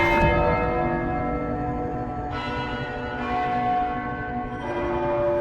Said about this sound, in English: I'll slide and go below the bell and ring it from underneath.